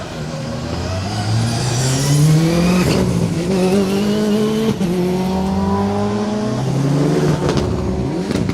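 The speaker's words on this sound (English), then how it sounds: "Dave Riley, Gary Dillon, car 16 making their way through the shot" A rally car drives through a stage of the Colin Ellmore Memorial Rally in damp weather, its engine loud and close, climbing through repeated rising revs with gear changes and possible tire squeal.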